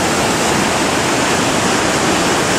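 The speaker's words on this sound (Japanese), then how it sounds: "いやー、こっからでもかなり勇壮な滝ですね。" Naena Falls, a large waterfall in Myoko, Niigata, roars as a steady, dense wash of loud broadband noise, close and continuous with no talking.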